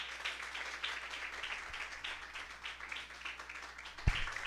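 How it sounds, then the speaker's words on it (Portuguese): A church congregation applauding to welcome the pastor at a Brazilian evangelical campaign service, sustained rhythmic clapping from many hands in a reverberant hall with a few sharper thumps. "que a igreja receba o pastor com as palmas que louva o Senhor Jesus."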